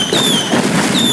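Explosion in the video game Teardown inside a warehouse, a loud crackling blast with scattered debris pops and a rising whine, lasting about a second, with no talking.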